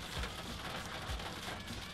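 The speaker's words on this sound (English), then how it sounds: "It's like hailing out here right now." Hail and rain pelting down outdoors in Madison, Wisconsin, a dense, steady patter with scattered sharper hits, close and continuous, no voices.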